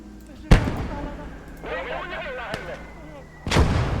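Heavy artillery guns firing in the World War II tank game Blood Red Snow, with two loud booming blasts about three seconds apart, the second rolling on, while a voice talks over the battle noise between the shots.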